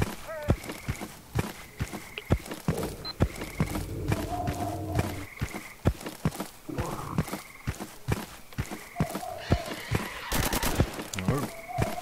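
Gunfire in the shooter S.T.A.L.K.E.R. Call of Chernobyl, a rapid string of sharp, punchy shots in irregular bursts with brief gaps between, mixed with other game effects and a voice talking over parts.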